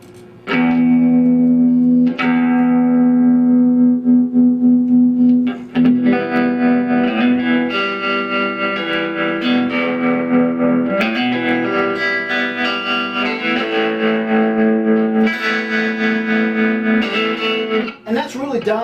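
An electric guitar rings through a Fender Vibro Champ XD amp with swirling rotary and modulation effects, sustained chords shimmering and wavering in a rich, vintage tone.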